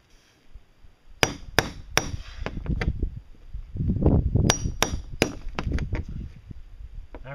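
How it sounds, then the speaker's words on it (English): A hammer strikes repeatedly aboard a boat, sharp ringing blows in uneven bursts, close and loud, with softer knocks and handling noise between them. "I remembered I had a hammer on my boat."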